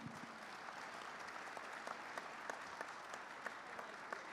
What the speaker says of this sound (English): join me in thanking the panelists up here in a round of applause